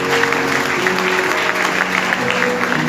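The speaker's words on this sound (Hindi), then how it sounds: "जोरदार ताली सच्चाई के लिए।" A congregation at a live church meeting breaks into loud, dense applause, a sustained roar of many hands clapping together that fills the room for a few seconds with no break.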